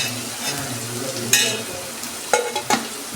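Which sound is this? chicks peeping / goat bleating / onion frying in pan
onion frying in pan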